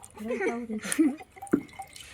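Water drips and trickles as it drains from soaked wheat being prepared for kurdai, brief splashy patters heard beneath a person talking close by.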